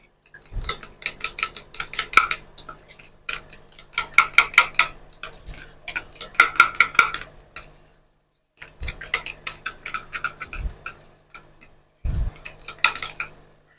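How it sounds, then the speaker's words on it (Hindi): A spoon or whisk beating half a cup of yogurt in a bowl for mutton korma, quick rhythmic clinking taps in clusters with short pauses, close and clear, no talk. "ये आधा कप हमारे पास दही था, इसको हमने इस तरह फेंट लेना है।"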